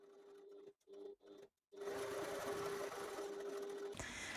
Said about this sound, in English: Now I'm going to sew both long edges with 1/8 of an inch seam allowance